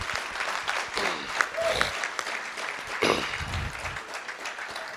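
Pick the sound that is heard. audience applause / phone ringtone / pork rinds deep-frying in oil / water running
audience applause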